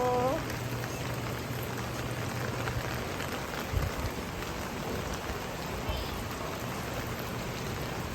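Steady rain falling outdoors in windy weather, a continuous close hiss that barely changes. A voice is heard briefly at the start.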